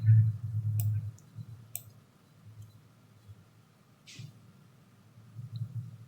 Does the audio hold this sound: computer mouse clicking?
yes